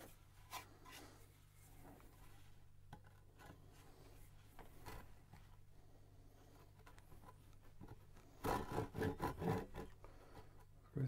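A Japanese pull saw makes an angled cut in wood for a DIY birdhouse. Quiet rasping at first, then a run of loud, rhythmic back-and-forth strokes near the end.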